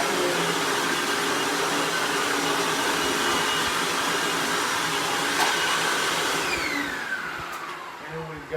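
A Hoover vacuum cleaner runs steadily and loudly from start to finish, a dense even whine and roar that dips slightly near the end as it moves or shifts load.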